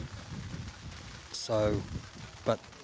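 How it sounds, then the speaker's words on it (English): Light rain patters down outdoors at a sports ground as a soft, steady hiss, with someone speaking briefly over it. "there's a bit of rain coming down now"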